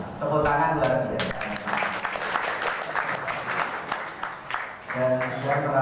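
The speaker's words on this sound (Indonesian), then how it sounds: "Tepuk tangan luar biasa." An audience at an evening Maulid gathering at an Islamic boarding school in Jatiasih applauds in a steady, moderately distant ovation, with a voice speaking over the start and end.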